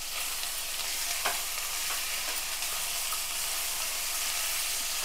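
Ginger garlic paste being stirred into mutton curry in a pan gives a steady, close hiss of frying with a few soft scrapes of the spoon, continuous and unbroken throughout.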